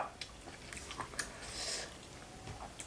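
Crunchy bites and chewing on giant cuttlefish tentacles dressed in a thick, spicy pla-ra seafood dipping sauce, heard up close as a run of short, moist crunching clicks with no talking.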